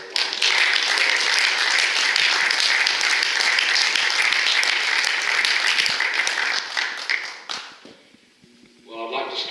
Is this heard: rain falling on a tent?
no